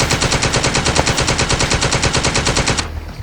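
Rapid automatic gunfire shooting zombies in the video game Ocean Is Home: a loud, unbroken burst of evenly spaced shots lasting nearly three seconds, then cutting off abruptly into quieter game ambience.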